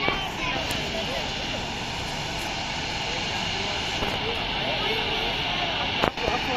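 A jet aeroplane at Dubai airport roars steadily and close, a broad continuous engine rumble that holds level throughout, with a person speaking over it.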